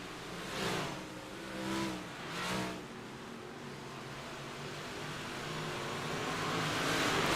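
Big Block Modified race cars on the Volusia dirt track, a roaring engine drone with three distant swells as cars sweep past, then a steady rising rumble as the pack nears.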